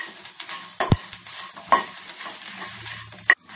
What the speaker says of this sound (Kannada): ಇವೆಲ್ಲವನ್ನು ಸ್ವಲ್ಪ ಫ್ರೈ ಮಾಡ್ಕೊಳ್ಳೋಣ